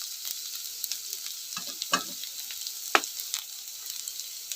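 Chopped ginger, garlic and onion fry in a pan with a soft, continuous sizzle, broken by scattered crackles and a few louder pops and stirring scrapes, with no talking.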